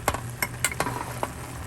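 Small galunggong fish adobo bubbling and sizzling in a pan, with a steady simmering hiss broken by several sharp stirring scrapes and clinks, close and alone with no voices.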